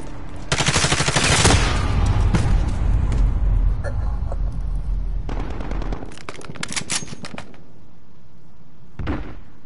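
Gunfire in a PS4 shooter, with long rapid machine-gun bursts and scattered single shots at close range, easing into quieter gaps and a final short burst, with a voice briefly heard.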